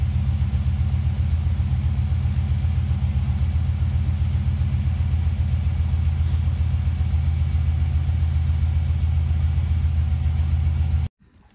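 L98 6-litre Chevrolet V8 fitted in a Nissan Patrol, idling with a deep, loud, steady rumble close by, running unbroken until it stops abruptly near the end.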